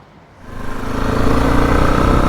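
Engine of a 2023 Mash X-Trail 650 motorcycle, a Honda-designed single, rising from quiet into a loud steady running drone that holds for about two seconds.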